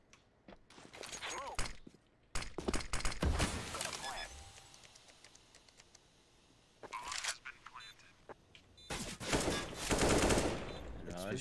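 Gunfire in the video game CS:GO comes in bursts of rapid shots and single cracks, loud and near, with Turkish-speaking players talking excitedly between and over the shots.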